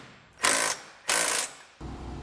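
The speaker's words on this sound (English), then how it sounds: "we can take our socket and just snug everything down" Socket wrench ratcheting to snug down bolts on a hidden trailer hitch on a 2020 BMW X5, two close, buzzing ratchet strokes followed by the start of a third, no talking.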